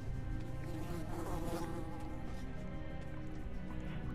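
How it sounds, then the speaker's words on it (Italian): Flies buzz around continuously in Metro Last Light, a steady droning hum that fills the space at low volume with no talk over it. "Ma qui dentro tutti sti ragni e mosche che volano intorno."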